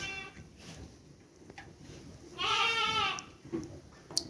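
A sheep that seems unwell lets out one loud, drawn-out bleat with a wavering tone, standing close by against quiet farmyard background.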